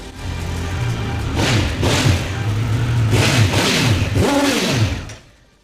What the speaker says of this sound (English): we've got even more of that triple bark from the 1200 RS